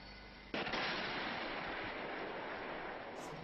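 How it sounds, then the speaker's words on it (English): A single sharp blast hits at about half a second, followed by a long roaring, hissing rumble that slowly fades, from low-quality Chechen war footage of Russian soldiers being struck by explosions, with no talk. "We're watching Russians explode here."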